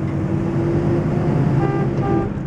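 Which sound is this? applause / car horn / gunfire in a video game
car horn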